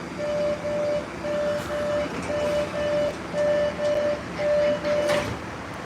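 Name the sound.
subway train running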